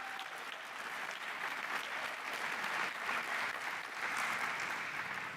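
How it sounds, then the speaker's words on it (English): An audience at a debate national championship claps loudly for about five seconds, a steady dense wash of applause with no voices over it. "Round of applause, the biggest one."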